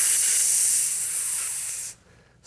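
Sizzling hiss sound effect, a bright steady spray of noise that holds for about two seconds and then cuts off abruptly, followed by a brief restart.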